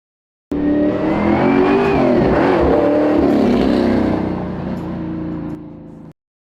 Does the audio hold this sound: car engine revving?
yes